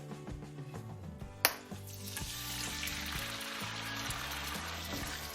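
Marinated chicken thigh pieces hit hot oil in a wok with a sharp splash, then sizzle and crackle steadily and loudly throughout.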